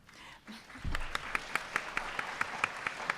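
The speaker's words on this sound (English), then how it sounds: "It always helps to have a little applause." Faint, sparse clapping at a leadership breakfast: a soft thump, then a few distinct, evenly spaced claps, rather thin and distant like a small group or single pair of hands.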